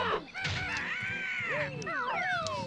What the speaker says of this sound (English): These big cluckers are now here, so this is actually way more difficult.